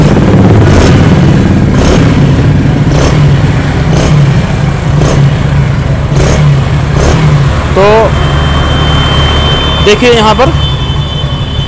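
Hero Splendor motorcycle engine idling steadily after being refitted, a loud continuous mechanical drone with regular pulses and a couple of brief throttle blips, while someone speaks over it.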